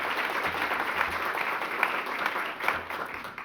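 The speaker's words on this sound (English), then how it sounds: "give her a round of applause." Steady audience applause fills a hall during a talk on Black infant and maternal health, a dense, even wash of clapping that holds at moderate loudness for a few seconds without a break.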